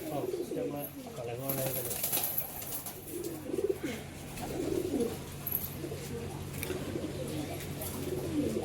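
Tumbler pigeons coo repeatedly up close in soft, throaty rolling phrases, with voices talking faintly in the background.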